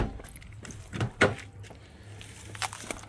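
A 1999 Toyota Camry key and a remote jangle in a few short metallic clinks and rattles, close by in a quiet space, with faint thumps between the bursts.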